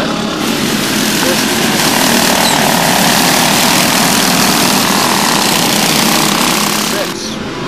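Racing go-karts rev hard on a warm-up lap, a dense, loud, continuous engine roar with buzzing overlapping motors that stays steady before easing off near the end.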